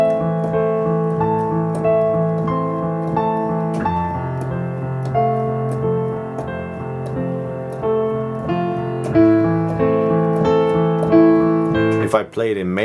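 Piano melody played only on stable notes, steady chordal accompaniment under a simple tune with clear struck attacks throughout, ending in a brief swell.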